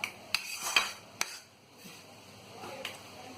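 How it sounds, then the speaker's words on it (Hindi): Gram flour (besan) stirred and roasted over low heat in a pan: a spoon scrapes and clinks against the metal in a few sharp, irregular knocks over a soft, quiet background. "हल्की हल्की आंच से इस तरह से भूनते रहेंगे"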